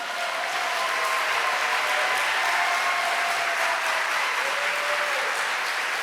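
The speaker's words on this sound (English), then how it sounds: "Give it up for Mu-Yin" An audience applauds steadily at the close of a Moth StorySlam storytelling performance. The clapping is dense and sustained, a uniform wash of hands with a few faint cheers mixed in.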